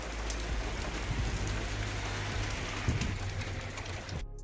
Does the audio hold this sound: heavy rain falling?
yes